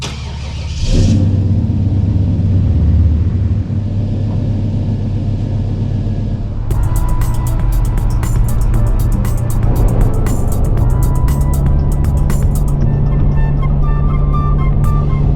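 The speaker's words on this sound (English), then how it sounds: "My 96 Buick Roadmaster wagon making the trip without issue." A 1996 Buick Roadmaster wagon towing a car trailer with a motorcycle aboard, its engine a steady loud rumble while driving, with rattling and clinking layered on top partway through.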